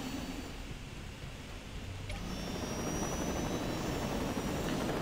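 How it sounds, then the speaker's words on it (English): A Saints Row 2 helicopter gives off a steady whirring rumble that swells and grows louder as the rotor spins up, with a broad engine roar and no voices. "Let's get this chopper."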